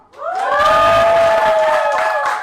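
A live audience at an event cheers and applauds, with loud sustained whoops and a mass of clapping that swell in quickly and hold steady throughout.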